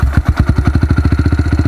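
Pit bike motorcycle engine running at a steady idle after starting, a loud close chugging pulse repeating in an even rhythm throughout.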